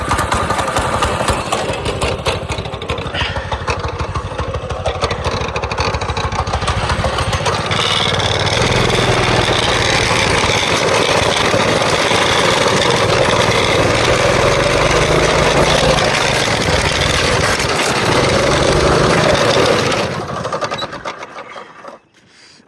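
A small go-kart engine roars continuously and loudly for about twenty seconds, its buzzing pitch rising and falling as it is revved during drifting, then abruptly sputters and dies away at the end.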